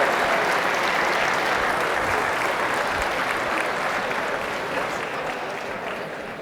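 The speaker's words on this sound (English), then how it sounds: "Can I get another round of applause for all the humanitarians in the room today?" Audience at a heroes breakfast event giving a round of applause for humanitarians, a thick, sustained wash of clapping that slowly fades toward the end.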